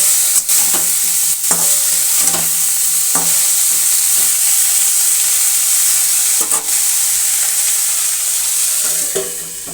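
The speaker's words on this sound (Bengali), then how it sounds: "আলুগুলো কত সুন্দরভাবে ভাজা চলছে।" Potatoes fry in a pan with a loud, steady sizzle and occasional stirring scrapes and clicks spaced through it, close up and with no talking.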